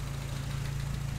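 Steady low rumble of a 1959 Triumph TR3A engine idling nearby, an even continuous throb with no other sounds.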